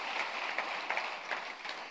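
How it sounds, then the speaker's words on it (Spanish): Faint applause from a church congregation, steady scattered clapping heard at a distance for a couple of seconds. "Denle fuerte su aplauso"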